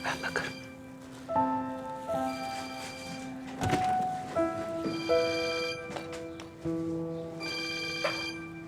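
A telephone rings inside a house with repeated electronic ringtone chimes in bursts, mid-distance and moderately loud, with sharp clicks between rings.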